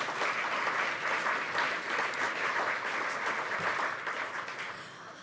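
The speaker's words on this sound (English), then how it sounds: "Another round of applause, please," Audience at the Children's Aid Foundation of Canada's five14 Talks applauds Tom Wilson, a full, dense round of clapping that holds steady before gradually tapering off.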